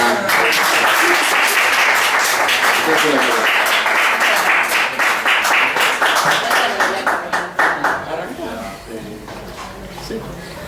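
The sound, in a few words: audience applause at a political rally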